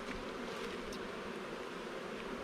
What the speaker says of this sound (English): queenless hive, the bees standing in rows, tails up and buzzing